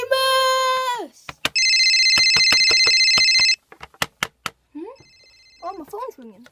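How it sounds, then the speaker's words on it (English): A telephone rings in an animated cartoon, a loud electronic bell trill followed by several short ringing bursts, with cartoon voices and sound effects around it. "Oh, my phone's ringing."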